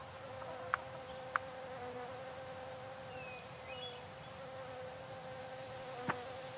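Bees buzzing in the farming video game Fae Farm, a faint steady insect drone over soft ambient hum, with a few sharp clicks and a brief rising buzz passing by.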